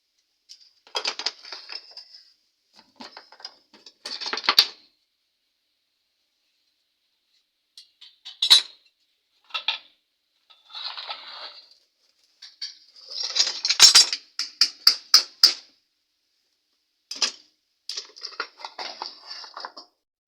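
Wire ends being cut on the coil of a Chinese-made electric fan under repair: short bursts of sharp metallic snips, clicks and scrapes, close up, separated by quiet pauses.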